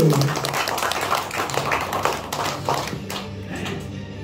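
An audience at an Indonesian business seminar claps in a quick, uneven patter under a speaking voice, easing slightly toward the end.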